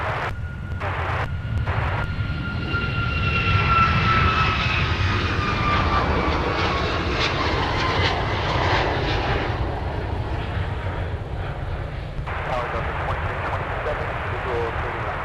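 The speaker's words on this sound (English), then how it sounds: "runway 30 left, cleared for takeoff" A jet airliner takes off from runway 30 left at Minneapolis–Saint Paul airport, its engines a loud, steady roar with a rising whine that holds for most of the stretch before easing slightly, while radio chatter sits beneath.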